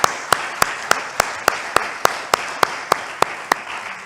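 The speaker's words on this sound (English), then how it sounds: "Why don't we all give a round of applause for Rabbi Dershowitz?" Clapping for Rabbi Dershowitz at a men's club debate event: a rhythmic series of about a dozen evenly spaced, sharp claps over softer scattered applause from a small crowd.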